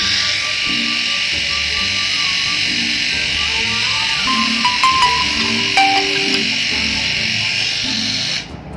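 A Solo River rechargeable electric shaver cuts hair with a steady, close, buzzing hum that runs almost the whole time and then cuts off at the end, while a quiet voice murmurs beneath it.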